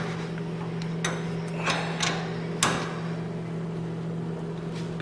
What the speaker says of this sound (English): We're going to take our wrench and once again, I'm just going to tighten these.